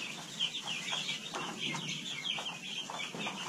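Several chickens cluck and chatter continuously at close range, including a small white meat bird near a water container, with short overlapping calls and no talking.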